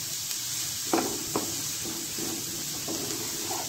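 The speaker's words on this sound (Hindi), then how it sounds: "ऑयल में ग्रेट की हुई गोभी, इसको हम अच्छे से फ्राई कर लेंगे।" Grated cauliflower fries in oil for aloo gobi paratha, giving a quiet continuous sizzle broken by a few sharp clinks and scrapes of stirring, with no voices.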